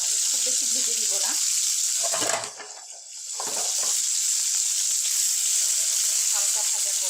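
Puti fish frying in hot oil in a pan, a steady close sizzle that dips briefly in the middle as the fish are handled, with a few faint voices mixed in.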